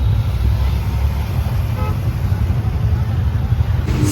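Dense Chennai city road traffic rumbles loud and close, engines droning steadily, with a short car horn toot rising briefly out of the din.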